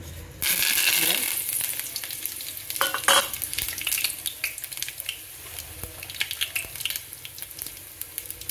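Onions and green chillies sizzle in a hot pan with cumin, cloves, cardamom, cinnamon and curry leaves while being stirred for tomato rice, with loud frying hiss and scattered spatula scrapes and clicks.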